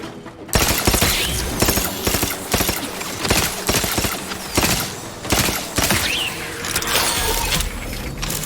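Gunfire in The Outer Worlds 2, loud rapid bursts of shots with sharp repeated cracks and mechanical clatter, coming in clustered volleys with short pauses over about eight seconds.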